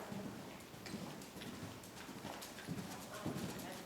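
Horse cantering in an arena riding lesson, steady rhythmic hoofbeats thudding across the whole stretch with faint background noise and a little talk mixed in.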